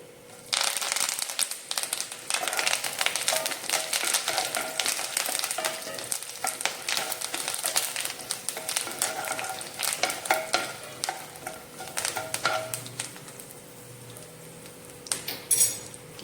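Curry leaves and chillies crackle and sizzle steadily in hot oil, tempering for Karnataka-style tamarind rice, with a metal spoon stirring and scraping the pan throughout and the spluttering easing toward the end.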